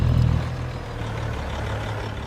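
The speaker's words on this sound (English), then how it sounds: "the sound of the truck is not very good" A truck engine in the video game Farming Simulator 25 drones low and steady, with a brief louder hiss at the start, then an even rumble with no talking.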